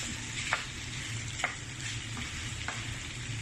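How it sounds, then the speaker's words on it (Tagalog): Onion, tomato and tomato paste sauté in a pan with a continuous close sizzle, broken by a few faint ticks and taps of a utensil, with no voices. "Gisa lang natin siya sa sibuyas, kamatis. Tapos tomato paste."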